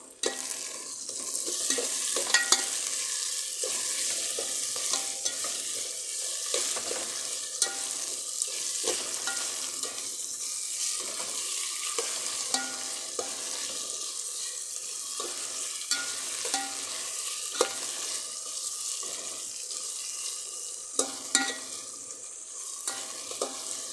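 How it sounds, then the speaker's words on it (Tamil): A fish curry is stirred in a frying pan while cloves, pepper and cumin sizzle in hot oil. The frying hiss is loud and steady throughout, with soft scraping stirs on top. "கொஞ்சம் கிண்டி விடலாம்"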